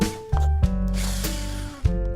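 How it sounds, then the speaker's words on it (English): Power drill boring into a wall to mount an ALGOT rail, with a loud whining motor running in bursts, each start and stop marked by sharp jumps in pitch. "Drill."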